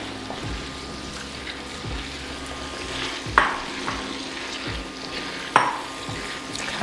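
Food being stirred in a frying pan, slow repeated scraping strokes over a soft sizzle, with two sharper metallic knocks of the utensil against the pan and no speech.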